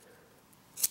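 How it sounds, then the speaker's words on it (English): New scissors snip through paracord in a single quick, crisp cut near the end, after a faint quiet background. "Now, the exact same paracord, let's try the new scissors."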